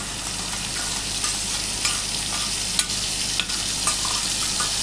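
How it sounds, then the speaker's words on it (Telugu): Tomato puree frying in a pan for pasta, a steady close hiss of sizzling oil with occasional stirring clicks, continuous and fairly loud throughout. "టమాటా ప్యూరీ కూడా బాగా ఫ్రై చేసి బాగా కలుపుకోవాలండి"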